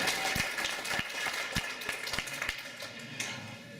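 Scattered clapping from a panel audience greets a speaker's introduction, with moderate, uneven hand claps over a murmuring room and no voices above it.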